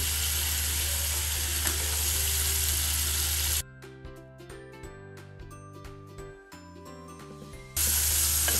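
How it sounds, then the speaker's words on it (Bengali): Potatoes stirred and frying in a spice paste for a papaya-potato tengra fish curry, with loud, steady sizzling that drops to quieter clinks and stirring midway, then surges back to full sizzle at the end. "আলুটা দেওয়ার পরে একটু ভালো মতো করে আবারও নাড়াচাড়া দিব, চুলার আঁচ কমিয়ে"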